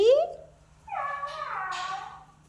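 A cat being fed milk lets out a short rising meow, then a longer, drawn-out wavering meow, close and clear in a quiet indoor setting.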